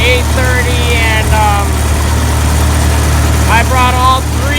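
A farm tractor and silage blower run steadily on a silage chopping day, a continuous low engine drone with mechanical vibration throughout, while someone talks over the noise.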